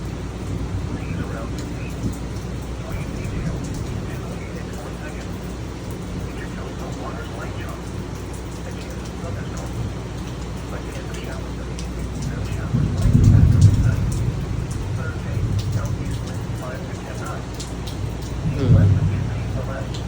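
Summer vacation thunderstorm with a continuous rain hiss and two deep, swelling rolls of thunder partway through and near the end, the second shorter and fainter.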